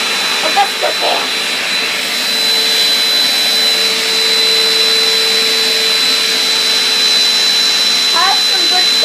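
A vacuum cleaner runs with its dusting brush attached, giving a steady, loud broadband whoosh with a high whine throughout; a few faint voice-like sounds occur near the start and end.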